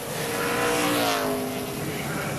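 Brad Teague's NASCAR Busch Series race car on track during 2007 qualifying at IRP, a loud engine roar swelling and sliding in pitch as it passes, with a voice talking over it.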